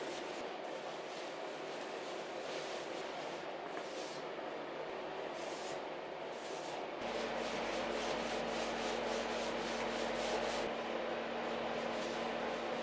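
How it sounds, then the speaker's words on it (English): Cloth rag rubbing paste finishing wax onto a wooden nightstand, a steady close, continuous swishing friction with rhythmic back-and-forth strokes, with no talking. "Just rub it on the rag and rub it on the surface."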